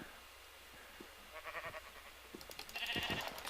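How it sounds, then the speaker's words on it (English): A sheep bleats in a video game, giving a few wavering calls that grow louder toward the end over a low steady background ambience, with no talking. "Hey, a sheep."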